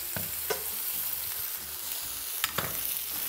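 Ahi tuna steaks sear in a hot pan, a steady close sizzle broken by a few sharp clacks of stirring as other ingredients go in.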